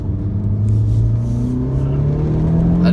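A Honda Civic Type R braking hard into the hairpin at Cadwell Park circuit, its engine droning loud and close with a steady, slowly rising pitch as it works under engine braking.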